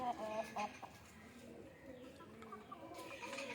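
Country chickens clucking and calling near a coop opened in the morning, with a few short clucks early on and then faint scattered calls over a low outdoor hum, soft and at middle distance.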